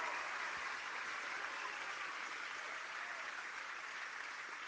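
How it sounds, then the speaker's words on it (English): A crowd at a political rally in Saskatoon applauds a roofer, a dense, steady wash of clapping from many hands that continues evenly throughout, heard at some distance. "Give him a round of applause."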